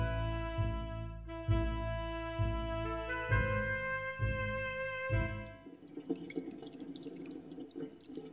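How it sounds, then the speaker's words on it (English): Dripping urinal water dispenser in a point-and-click video game, steady rhythmic drips over a sustained tonal drone, then fading into quieter watery trickle near the end. "It's the water dispenser for the urinals."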